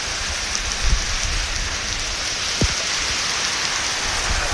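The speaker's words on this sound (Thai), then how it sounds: "ฝนพี่น้องฝน" Heavy rain pours outdoors in a dense, steady hiss, with a few louder drops and thuds striking nearby surfaces.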